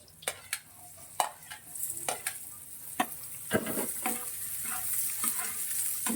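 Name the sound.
stirring onions frying in a pan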